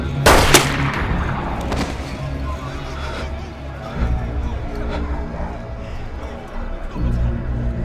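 Gunshots in a tense dramatic scene: a sharp, loud shot near the start followed by a couple of further reports, then low rumbling ambience and muffled background sound for the rest.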